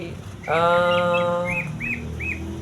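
A green leafbird chirps up close: a bright, harmonic call followed by a few quick rising-falling tweets, with light background noise.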